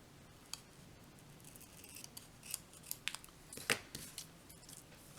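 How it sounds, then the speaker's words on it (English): Scissors snip a small gold paper doily in half, a few close, crisp cuts that grow louder toward the end over faint background hiss, with no voices. "I'm going to take one of the small gold doilies and I'm going to cut it in half."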